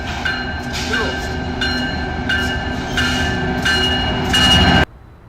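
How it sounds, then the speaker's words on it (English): Train pulling into a station near the Laredo border, a loud rail rumble with rhythmic wheel clatter and tonal squeal, cutting off abruptly near the end. "today, we're lucky to have a train coming in"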